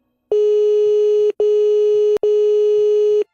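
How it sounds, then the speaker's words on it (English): A telephone ring signal on an outgoing call to a mobile phone: three loud, steady tonal bursts of about a second each, separated by short gaps, with no voices. "It rang 3 times, then went to voicemail."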